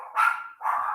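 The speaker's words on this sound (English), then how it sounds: "excuse my dog." A dog barking in the background during a phone-in chat: two quick, fairly loud barks or yips close together, with no talk over them.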